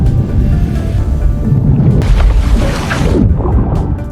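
A heavy, loud booming rumble rolls on for several seconds, swelling midway with a crackling burst before easing off.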